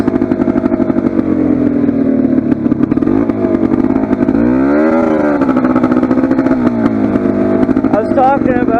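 Polaris 400 ATV engine with a loud, unmuffled exhaust idling and revving close by, a steady rough drone with rising and falling pitch sweeps, while someone talks over it.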